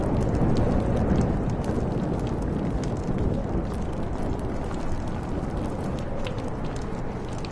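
Steady, loud rain from a thunderstorm in the video game Life is Strange, with a continuous dense downpour and low rumbling filling the whole stretch, without talk.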